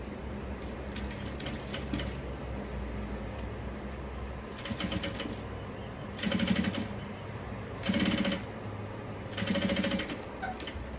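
A sewing machine stitches bias binding in several short runs, each a quick rattling burst of a second or so, separated by pauses, with the last three bursts louder and closer.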